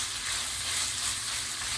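Ground beef mince frying in oil in a pan gives a steady, close, crackling sizzle that holds evenly throughout, with no voices.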